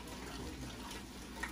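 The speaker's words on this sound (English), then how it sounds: "we want to get a little bit of water in it so we can get the rest of the seasoning out" Water running into a cooking pot to rinse out leftover seasoning while making curry chicken, a steady soft splashing rush that holds even for the whole stretch, fairly quiet and with no talk over it.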